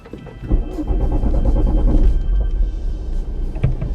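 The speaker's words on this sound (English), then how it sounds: "So let's fire it up and go for a drive." A remapped Ford Focus RS cranks for a moment and fires up, its engine settling into a loud, rumbling idle close by with no one talking.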